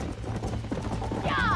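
Galloping horse hooves from the Red Dead Redemption video game, a rhythmic clip-clop running steadily under a voice, with a brief whinny-like tone near the end.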